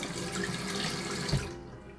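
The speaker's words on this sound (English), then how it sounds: "A single lever offers the most function with the least effort, so that's what we opted for the sink." Water runs steadily from a single-lever bathroom sink faucet in a small, age-friendly remodeled bathroom, a continuous broadband splash that thins out near the end.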